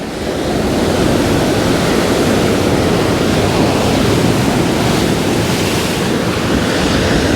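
Large surf from an East Coast Low storm washing ashore at Coogee Beach in Sydney, a loud, continuous roar of breaking water with heavy wind buffeting the microphone and no voices.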